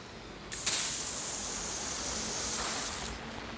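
A jet washer sprays snow foam onto a car in a steady, loud hiss that bursts on suddenly and holds for about two and a half seconds before cutting off, with no talking.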